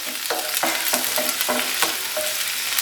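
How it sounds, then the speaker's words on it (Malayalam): Garlic, ginger and green chillies sauté in hot coconut oil for a Kerala-style egg roast, a steady bright sizzle broken by repeated stirring scrapes at roughly half-second intervals, close and alone with no voices. "ഒരു ടേബിൾ സ്പൂൺ വെളുത്തുള്ളി അരിഞ്ഞതും ഒരു ടേബിൾ സ്പൂൺ ഇഞ്ചി നീളത്തിലരിഞ്ഞതും രണ്ട് പച്ചമുളക് നീളത്തിലരിഞ്ഞതും കൂടെ ചേർത്ത് കൊടുത്തിട്ട് പച്ചമണം മാറുന്നത് വരെ ഒന്ന് വഴറ്റിയെടുക്കാം"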